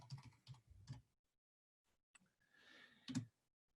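Quick, light keystrokes on a computer keyboard come in short clusters with pauses between them, then a final burst of taps in a quiet room.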